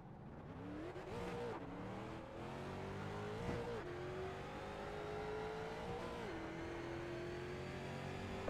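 Race car engines in the iRacing sim at Southern National Motorsports Park drone steadily throughout, rising and dipping in pitch as they rev through gear changes, with a continuous loud pack of engines behind.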